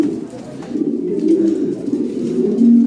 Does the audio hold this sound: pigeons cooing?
yes